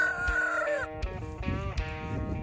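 Fighting roosters crow and cluck close by, one loud drawn-out crow followed by agitated clucks and squawks from the birds.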